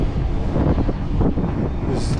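Steady wind buffets the microphone on a seaside promenade in Sochi in January, a continuous low rumble that stays loud throughout with a brief hiss near the end.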